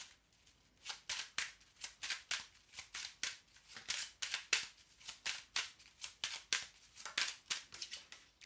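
Tarot cards being shuffled over and over, a steady run of crisp riffling bursts at an even rhythm, close and fairly quiet with no voices.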